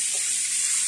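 Water hits a hot pan of Hakka noodles with tomato and spices, giving a loud, hissing sizzle that holds steady for under a second with no voices.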